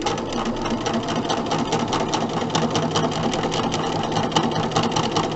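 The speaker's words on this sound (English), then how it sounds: "sewing straight off of the fabric" A sewing machine stitches quilt block fabric in a loud, fast, continuous mechanical whir with rapid needle rhythm, heard up close and alone.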